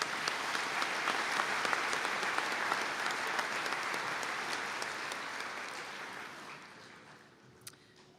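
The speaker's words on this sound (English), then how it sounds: "Can we all give them a round of applause" Sustained audience applause at a college conferring ceremony in Donegal, a dense even wash of many hands clapping that holds steady and slowly fades out near the end.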